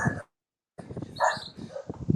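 A neighbor's dog barks and yips in short, uneven bursts after a brief silence, fairly faint and mixed with soft background noise.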